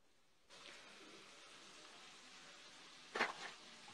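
Soft, steady sizzling hiss of food frying in a pan, with a brief louder crackle near the end.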